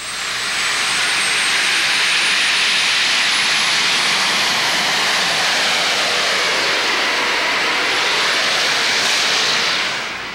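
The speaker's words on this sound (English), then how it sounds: "That's the sound of two T-53 Lycoming helicopter engines." Two T-53 Lycoming helicopter turbine engines on a pulling tractor give a loud, continuous turbine roar with a high whine on top, steady for the whole stretch and close by.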